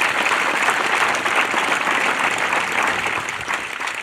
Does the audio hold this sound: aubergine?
no